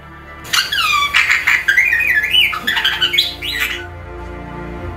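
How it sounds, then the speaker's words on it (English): Loud, shrill bird squawks and screeches in a rapid run of harsh calls lasting about three and a half seconds, close and alone with no talk. "And this is the sound that a bird makes."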